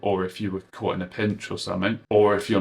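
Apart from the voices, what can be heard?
No everyday noise stands out behind the speech.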